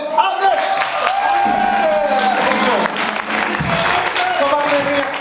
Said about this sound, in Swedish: En applåd till Anders!